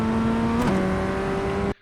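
A Ray FF1600 race car in iRacing accelerates through the gears, its steady engine note climbing and then dropping briefly at a gear change before pulling on loud and close, then cutting off abruptly.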